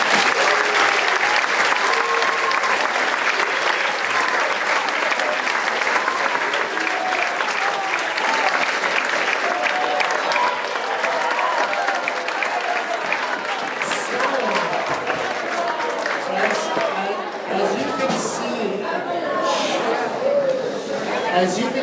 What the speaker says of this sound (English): Let's give a round of applause to all the middle school students for another year completed